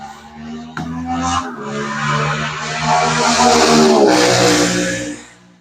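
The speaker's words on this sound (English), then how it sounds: "Somebody on a motorcycle." A motorcycle passes nearby, its engine tone climbing in pitch, dropping briefly at a gear change, then building louder before fading away at the end.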